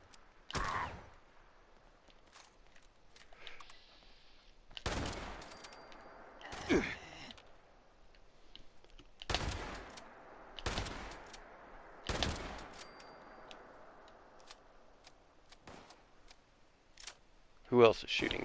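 Several sharp gunshots ring out in Fallout 76, spaced irregularly across the stretch with quieter ambient gaps between them, moderately loud and close, with a burst of louder noise near the end.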